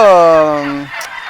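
A single loud, close call from a duck on a farm, a harsh, throaty cry lasting under a second, heard alone with nothing else around it.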